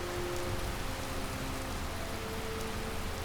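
Steady rain falls in Skyrim near Riverwood, a continuous even hiss of drops on surfaces with no thunder, moderately loud and constant throughout.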